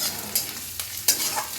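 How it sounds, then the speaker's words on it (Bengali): Ginger frying lightly in a pan gives a steady sizzle, broken by a few sharp scrapes as it is stirred. "আদাটা একটু ভেজে নেব, আদার একটা গন্ধ থাকে, তো হালকা একটু ভেজে নেব"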